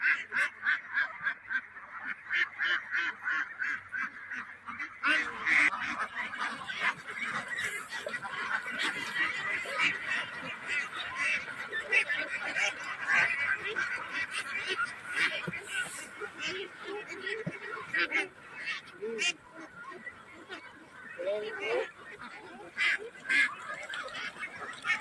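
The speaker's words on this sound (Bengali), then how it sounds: "ছোটন তার হাঁসগুলোকে আপনার ধান খেতে দিবে" Ducks feeding in a rice field, a dense, continuous chorus of quacking from many birds, moderately near, with occasional voices in the background.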